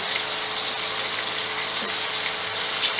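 Chicken frying in a karahi gives a steady, dense sizzle that holds at an even level throughout, with no one talking.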